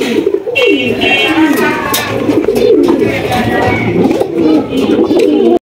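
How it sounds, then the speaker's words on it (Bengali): Black Gold Archangel pigeons coo continuously and close by, with layered throaty calls overlapping through the whole stretch amid general loft noise. "আরো একজোড়া ব্ল্যাক গোল্ড আর্চেঞ্জেল কবুতর দেখতে পাচ্ছি আমরা"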